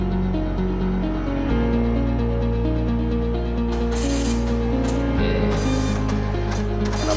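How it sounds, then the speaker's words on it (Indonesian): A Furuno Felcom 18 Inmarsat C printer printing diagnostic test results, giving a steady mechanical whir with rhythmic ratcheting clicks and a pitch shift as the feed changes, close and continuous with no talk. "dia akan otomatis mencetak hasil diagnostik tes kita"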